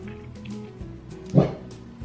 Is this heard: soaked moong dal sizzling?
no